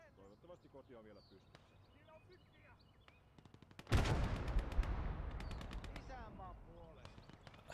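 Enemy gunfire in the Gates of Hell Finland conquest battle, with sparse distant cracks, then a loud rolling burst of rapid shots and explosions around the four-second mark, with chatter and shots continuing as voices talk.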